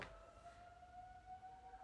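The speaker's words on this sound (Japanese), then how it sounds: "あれって救急車だよねあ救急車じゃないあの警察だよね" A faint, distant police car siren holds a steady wailing tone over low background rumble.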